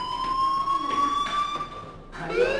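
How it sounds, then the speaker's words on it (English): A fire alarm in the video game Life is Strange rings with a steady, piercing electronic tone that holds without pause, loud and close over a faint background bed. "Hey, do you hear that fire alarm?"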